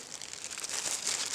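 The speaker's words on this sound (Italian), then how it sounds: "Prendete un sacchetto di plastica" A plastic bag crinkles softly and continuously for a moment at close range, faint and alone.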